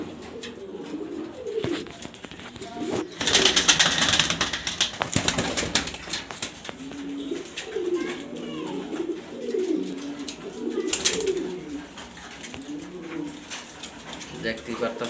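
Big-sized Afsan and baga grizzle racer pigeons in a loft coo repeatedly, with low rolling coos recurring throughout alongside occasional rustling and a brief burst of noise, while someone talks over them.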